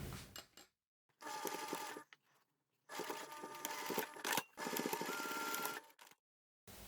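A sewing machine stitches a zipper pocket seam in several bursts, each run of stitching lasting about a second or two, separated by short pauses. The sound is fairly quiet and carries no speech.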